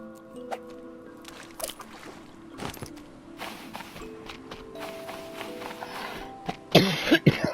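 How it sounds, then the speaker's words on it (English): A person coughs and clears their throat in scattered, irregular bursts among clicks and game noises. The final bursts are louder and close. "I apologize for coughing."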